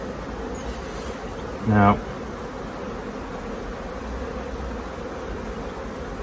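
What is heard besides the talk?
honeybees buzzing in a hive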